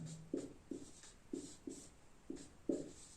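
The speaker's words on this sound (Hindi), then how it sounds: "तो यहाँ पर लिखेंगे" Someone writes on a board with short, faint scratching strokes that come in a steady, rhythmic run of about nine, alone in a quiet room.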